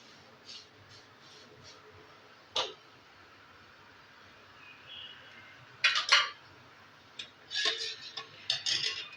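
Rice kheer with milk being stirred in a pan, with a faint metal spoon scraping and clinking against the pan in scattered taps that grow louder near the end.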